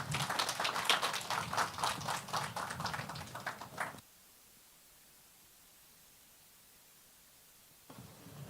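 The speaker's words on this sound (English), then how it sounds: "Let's give them a round of applause." An audience at a handover ceremony gives a dance group a round of applause, brisk, dense clapping for about four seconds that cuts off abruptly into near silence before a faint sound returns at the end.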